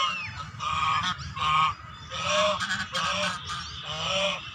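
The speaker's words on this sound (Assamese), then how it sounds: "ৰাজহাঁহ দেখা চাব হা" Geese at a park pond give repeated loud, nasal honks in an uneven series of calls, near and clear, with no talk.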